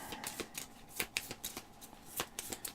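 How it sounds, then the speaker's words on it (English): A deck of cards being shuffled during a Kingdom Death: Monster board game session, with quick papery riffles and flicks repeating in short bursts, close and fairly quiet, with no talk. "These would be shuffled"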